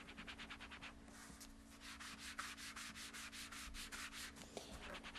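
Ink is rubbed lightly over embossed paper in quick, even back-and-forth strokes, making a soft, dry, rhythmic scratching that repeats steadily up close.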